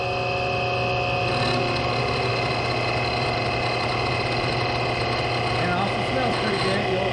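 Proto Trak KMX CNC mill cutting with an oiled cutter, a steady mechanical whine and hum with layered tonal drone that holds evenly throughout.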